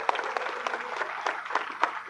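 A crowd at a religious gathering with a Swamiji's blessing claps for the young organizers, a short, dense burst of applause lasting about two seconds.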